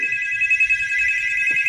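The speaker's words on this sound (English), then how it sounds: "My nephew about to take a phone call." A phone ringtone rings continuously and loudly for the whole moment, a steady electronic tone over faint low background noise, with no talking.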